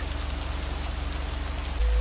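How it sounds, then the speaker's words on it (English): Steady rain pours in the video game Lake, a constant close hiss of drops on surfaces with a low rumble under it. A deeper thud comes in at the end. "let's see if it will keep raining cats and dogs"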